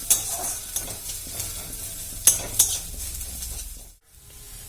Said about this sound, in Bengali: অল্প খানিক তেল দিয়েছি আর তেলটা দিয়ে পেঁয়াজটা জাস্ট এইভাবে ভেজে নিয়েছি